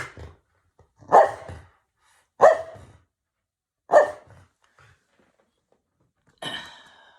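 A dog barks four times in sharp, close bursts spaced a second or more apart, with quiet gaps between each bark and no talking over them.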